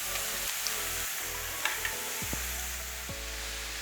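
Mushrooms, tomatoes and peppers frying in a pan as butter is added, a soft steady sizzle with a few faint clicks and light stirring, no voices.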